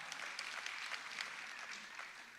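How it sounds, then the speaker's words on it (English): A town-hall audience at a city State of the City event gives faint, distant applause, steady and sparse for a couple of seconds. "You can clap for that."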